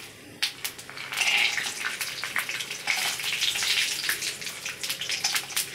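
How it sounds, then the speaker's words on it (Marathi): Peanuts with cumin and asafoetida hit hot oil in a pan and burst into a steady, close crackling sizzle that keeps going, with small pops and stirring noises throughout. "जिरं, हिंग आणि सर्वप्रथम आपण शेंगदाणे तळून घ्यायचे।"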